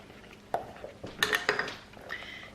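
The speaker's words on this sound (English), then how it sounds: "just use a spatula to get the cheese out of the food processor" Spatula scraping cheddar cheese-ball mixture out of a plastic food processor bowl, giving a few sharp knocks and scrapes in uneven bursts, close and fairly loud against a quiet kitchen.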